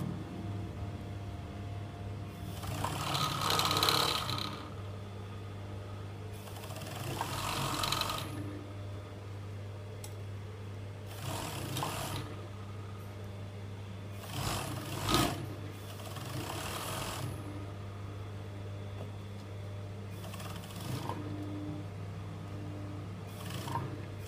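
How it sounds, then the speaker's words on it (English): A sewing machine stitches the seams of a pair of leggings in several short, fairly quiet runs, whirring in bursts of a second or two with pauses between them over a low steady hum. "making sure that we bring our edges together as we sew"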